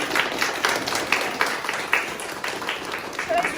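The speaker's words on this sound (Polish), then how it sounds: "To co, brawa dla Marty?" A small group at a horse-riding camp stable claps for Marta, quick scattered claps running steadily under voices that talk across it.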